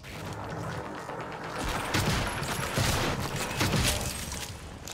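Chaotic gunfire and crashing in the video game Prey, a dense wash of noisy impacts and bursts that swells in the middle and stays loud throughout.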